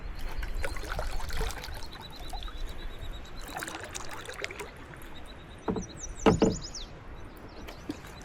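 Kayak paddling downstream on a lake in Glendalough State Park, with soft splashes and water trickling around the hull, a few knocks of the paddle against the boat, and quiet outdoor ambience.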